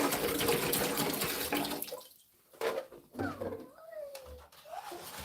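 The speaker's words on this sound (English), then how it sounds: "Got a little splash going there. It's just water." Water pours and splashes into a Gardyn hydroponic tank in a loud, steady rush for about two seconds. It then breaks into intermittent, quieter splashes and trickles.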